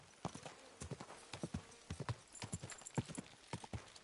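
Horse hooves clip-clop in a steady walking rhythm, close and clear, with a brief soft whinny among the footfalls, from a ridden horse in the medieval game Kingdom Come: Deliverance 2.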